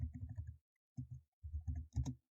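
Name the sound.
typing a command on a computer keyboard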